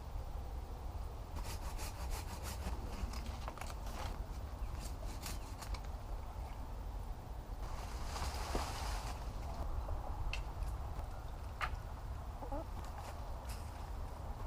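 Steady rasping of a saw cutting through tree roots to prepare bare-root trees in a garden, continuous strokes running throughout at moderate distance with a few brief knocks.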